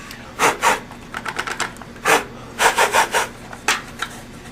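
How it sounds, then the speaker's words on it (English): Hand filing of sharp metal edges on a combiner box for a solar setup: a series of close rasping strokes in uneven bursts, some single and some in quick runs of three or four, with no voices. "After you're done filing down the sharp edges"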